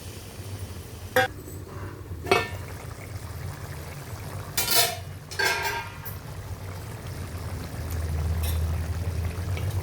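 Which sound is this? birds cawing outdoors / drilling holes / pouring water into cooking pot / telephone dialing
pouring water into cooking pot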